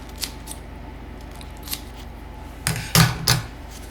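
Scissors snip through paper while a throwaway pastry brush is cut for brushing scones: a few light isolated clicks, then a quick cluster of louder crisp snips close by.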